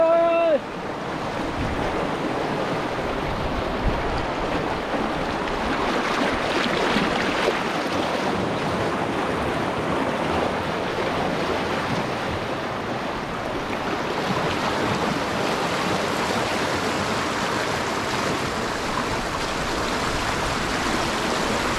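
A steady, loud roar of rushing water fills the whole stretch, a swollen, rising flooded river in Ramgarh, Uttarakhand surging past, with wind buffeting the microphone throughout.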